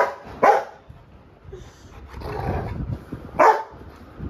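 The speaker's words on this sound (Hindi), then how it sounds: "कुत्ते के पिल्ले, पिल्ले के" A puppy at home gives two short, sharp barks a few seconds apart, standing out over low background rustling and room noise.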